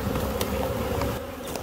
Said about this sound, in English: the bees here are acting satisfied, the queen is here